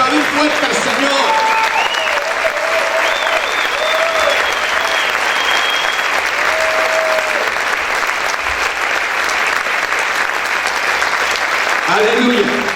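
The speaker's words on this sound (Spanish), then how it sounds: "Vamos a aplaudir fuerte al Señor" A church congregation claps loudly and steadily in praise during a Spanish-language worship service, a dense sustained roar of hands with shouted voices rising above it throughout.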